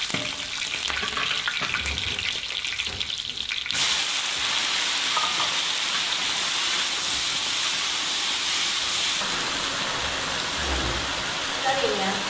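Garlic frying in a pan sets off a sudden loud sizzle a few seconds in, after a quieter start, then keeps hissing and spitting steadily up close.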